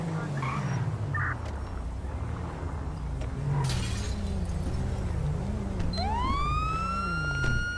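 A police car siren in the GTA 5 video game winds up and begins wailing near the end, rising over a steady rumble of game engine and background noise.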